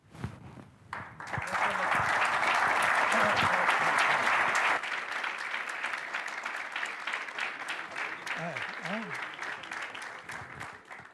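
Sustained audience applause fills a panel discussion with Chilean presidential precandidates, loud and steady for several seconds before easing into lighter scattered clapping as a voice speaks over it.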